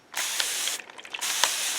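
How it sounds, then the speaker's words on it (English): A spray bottle misting water onto leather rune stones: a short hissing spritz, then a brief gap of faint clicks and a second burst of spray, close and alone. "give it a little spray from the front."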